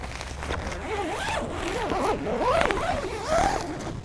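Zipper being drawn along the door of a Hillman Turtle 4 tent porch, a continuous rasping pull with rising and falling pitch sweeps, close and fairly loud, no talk over it.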